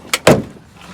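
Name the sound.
popping off Acura MDX rear door panel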